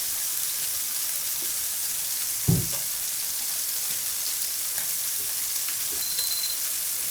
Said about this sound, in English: And I cook my patties for about 3 minutes total